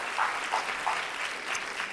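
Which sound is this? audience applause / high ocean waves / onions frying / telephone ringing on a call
audience applause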